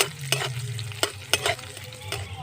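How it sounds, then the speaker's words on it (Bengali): Chopped ginger fries in mustard oil with whole cumin seeds, a steady low sizzle broken by several sharp scrapes of a spatula stirring the pan at uneven intervals, close and alone. "আদাটাকে একটু ভেজে নেব"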